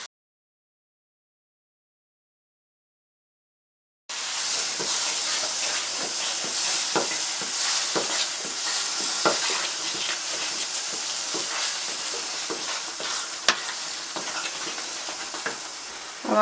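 Green pumpkin halwa with cream and ghee being stirred in a pan, a steady hiss and sizzle with soft scraping strokes, starting after about four seconds of silence and continuing close and fairly loud.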